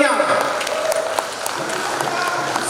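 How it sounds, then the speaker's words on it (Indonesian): Applause fills a large Indonesian clan assembly gathering, a dense continuous patter of clapping from the crowd, with a voice speaking over it. "Tepuk tangan untuk kaum milenial."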